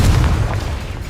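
A Confringo spell from the Hogwarts Legacy video game lands as a single deep, loud boom with a rumbling low tail that fades over about a second.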